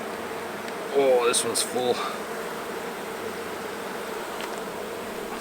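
Honeybees buzz steadily in a smoked hive during an inspection, the dense insect drone running throughout, with a person briefly speaking near the start.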